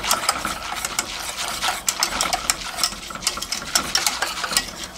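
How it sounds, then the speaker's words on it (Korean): A wire whisk beats flour into water in a pot on the stove, making rapid rhythmic clicking and scraping against the metal, close and continuous. "거품기로 저어줍니다."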